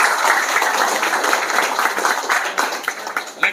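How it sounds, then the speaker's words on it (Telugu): An audience claps steadily and densely at a political party-joining event in Vizianagaram, the applause continuous for a few seconds with slight swells toward the end. "గట్టిగా క్లాప్స్ కొట్టండి అందరూ."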